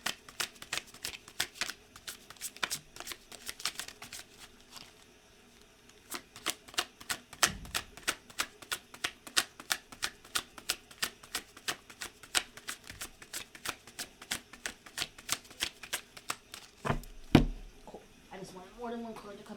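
A deck of cards is shuffled repeatedly up close, giving dense runs of crisp riffling clicks in bursts with brief pauses and a few soft thumps, without speech.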